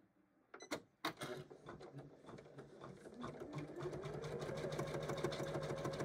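After a few clicks and knocks, a sewing machine starts stitching fabric for an in-the-hoop Christmas stocking, its needle chatter building into a steady, fast, close whirring rhythm.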